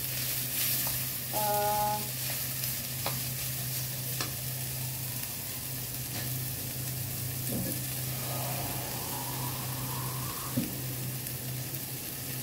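Banana blossoms sautéing in a pan, a steady close sizzle with occasional stirring scrapes and clinks under a low constant hum, with no talking.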